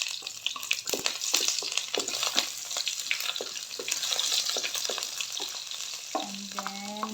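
Garlic and onion sauté in a hot pan for adobong sitaw. A steady, close sizzle runs throughout, broken by frequent scraping stir strokes, with no talking.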